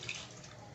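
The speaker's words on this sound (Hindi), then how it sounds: "और अब 5 गिलास पानी ऐड करेंगे।" Water poured into a pot of aloo gosht before pressure cooking, a short continuous wash of liquid with a brief splash near the end.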